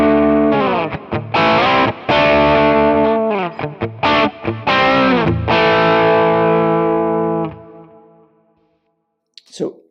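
Distorted electric guitar from a Yamaha RGX on its bridge humbucker with the mid boost engaged, loud chords and riffs ringing out for about eight seconds before a sustained decay into silence.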